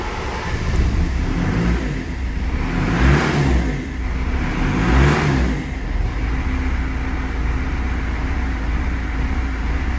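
A BMW M47 diesel engine fitted with a Bosch VP44 injection pump runs loud and close with a continuous rough clatter, rising through two throttle revs before settling back to a steady idle.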